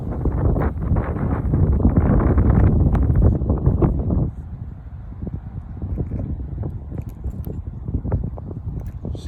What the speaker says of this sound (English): Right now you can tell it's pretty windy.